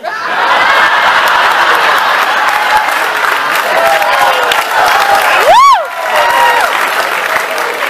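A concert audience at a big-top tent venue in Bayfield, Wisconsin claps loudly and steadily, with scattered cheers, chuckles and a rising whistle partway through.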